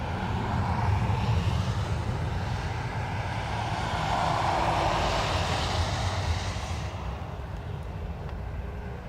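A Ryanair airliner lining up on the runway at Dublin Airport gives off a steady jet engine roar, loud and sustained, easing slightly toward the end.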